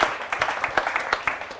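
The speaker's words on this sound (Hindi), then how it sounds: "एक बार जोरदार तालियां हो, शंभू शिखर हमारे बीच यहां उपस्थित है।" Audience clapping at an Independence Day poetry gathering (kavi sammelan): a brief, steady patter of many hands applauding together, with no speech over it.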